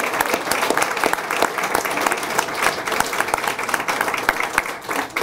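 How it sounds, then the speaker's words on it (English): Audience applause for a small group being thanked during a speech, a steady wash of many hands with distinct individual claps popping out over five seconds, fairly close and moderately loud. "a quick round of applause to the OG guys"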